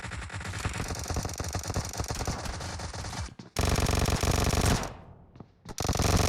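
Rapid automatic gunfire from a video game, loud and dense bursts with a short pause near the middle and another near the end, continuing almost without break.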